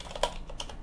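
Computer keyboard typing while setting up an Arch Linux install, a few quick key clicks in a brief irregular burst, close and fairly quiet, with no speech.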